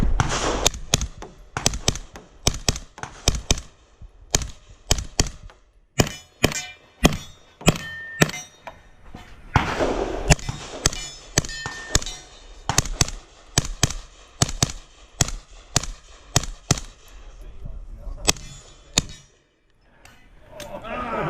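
Rapid pistol shots ring out during an action pistol league stage, about thirty sharp, loud cracks in quick strings with short pauses between groups, over faint background voices.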